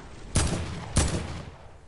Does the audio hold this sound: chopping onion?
no